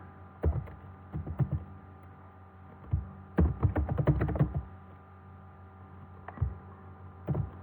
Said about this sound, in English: you're going to hit enter, hit the space bar twice, and you're going to type the following.